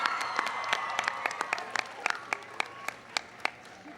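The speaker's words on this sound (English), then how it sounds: "Give her a big round of applause." Applause from a White House audience at an astronomy night welcoming the first African-American woman in space, with individual claps standing out close by over a busier crowd clapping behind them.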